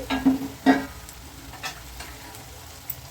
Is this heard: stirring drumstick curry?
yes